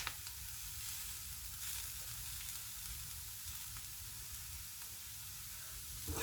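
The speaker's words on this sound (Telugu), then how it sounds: "ఇదిగోండి ఎండు కొబ్బరి వేసుకున్నది కూడా చక్కగా వేగిపోయింది." Dried coconut frying in a pan, a steady close sizzle and crackle of hot oil throughout with faint stirring scrapes and no talking.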